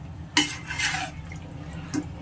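A utensil scrapes and knocks against a pan of chicken gravy a couple of times over a low background hum, close and brief.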